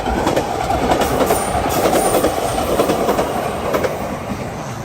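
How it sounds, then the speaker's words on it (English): A train passes at close range on a rural line in Japan, its wheels clattering loudly and steadily over the rails with a faint high squeal throughout, heard alone without voices. "Is that the train?"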